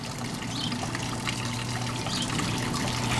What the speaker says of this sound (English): We have a water wheel going on the right.